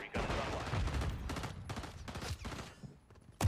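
Turret gunfire in a video game rattles in dense, rapid bursts throughout, loud and close, with a voice briefly audible underneath.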